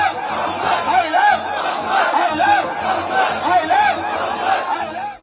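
A large crowd chants slogans in unison during street unrest near Islamia Ground in Bareilly, a loud, continuous mass of voices with rhythmic rising calls.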